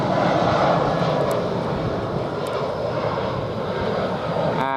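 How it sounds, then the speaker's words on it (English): An EasyJet Airbus airliner flies low over Luton Airport Parkway station near Luton Airport, a loud, steady jet roar holding throughout. "And that was an EasyJet."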